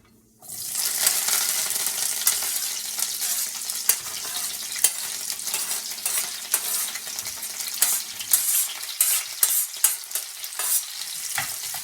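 Diced celery, carrot and garlic frying in a pan, a loud continuous sizzle that starts abruptly after a brief quiet moment, with frequent sharp clacks of stirring utensils against the pan.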